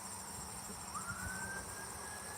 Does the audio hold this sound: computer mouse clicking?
no